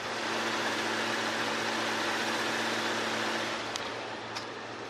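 A 3.0-litre gasoline V6 car engine idling, heard as a steady, smooth broadband hum with a low droning tone, even and unbroken, with a couple of faint clicks near the end.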